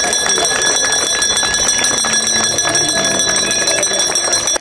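An electric school bell rings continuously and loudly at a last-bell ceremony for graduates at a lyceum in Mukachevo, a shrill sustained tone lasting several seconds before cutting off.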